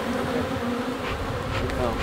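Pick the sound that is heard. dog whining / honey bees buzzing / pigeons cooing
honey bees buzzing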